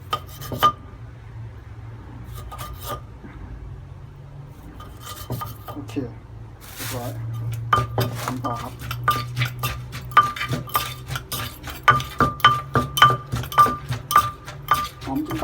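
Repeated knife strokes slicing a tomato on a cutting board, sparse at first then a quick steady chopping rhythm with light clinks, close by.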